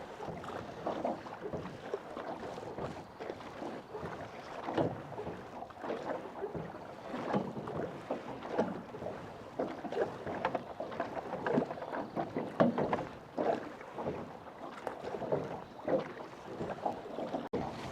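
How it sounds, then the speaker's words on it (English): A rowboat is being rowed along the waterways of Trang An in Ninh Binh, with steady splashes and paddle strokes close by over a continuous wash of water and light wind. "you're doing so much rowing and very strong"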